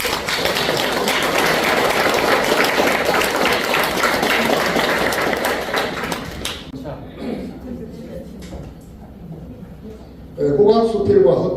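Audience at a book concert in a Busan art center bursts into loud, dense applause that fills the first six seconds, then fades to scattered claps and quiet room noise before a brief louder burst near the end.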